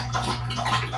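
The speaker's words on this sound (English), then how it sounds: "Now he drinking the bath water." A dog laps at bath water in a filled tub, soft wet splashing and gurgling close by over a low steady hum, with no talking.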